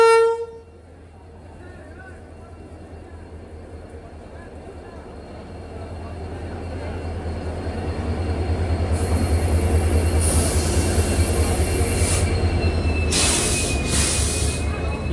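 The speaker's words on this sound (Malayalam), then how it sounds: "മിസോറാമിലേക്ക് പോകാനുള്ള ട്രെയിൻ ഇതാ പ്ലാറ്റ്ഫോം നമ്പർ 4ലേക്ക് കടന്നു വരികയാണ്." The Guwahati–Sairang Express rolls into a platform in the rain, a heavy rumbling train with squealing wheels and brief horn toots growing louder as it draws in, with people talking faintly around it.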